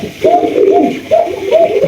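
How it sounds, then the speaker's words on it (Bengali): Pigeons in a pigeon house give steady, close rolling coos, several phrases in quick succession without pause. "এই ঘরে কিন্তু খালি ককা ডাকতেই আছে ডাকতেই আছে দেখেন"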